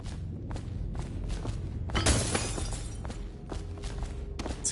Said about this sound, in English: Destroying your bottles.